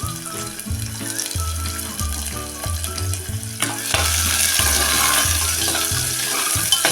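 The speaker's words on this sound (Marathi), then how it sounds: "कांदा चांगला मोकळेपर्यंत आपण परतून घेऊया" Chopped onion fries in a pan with crackled mustard seeds and cumin, a dense sizzle and stirring under steady stepping background music that grows louder and brighter midway.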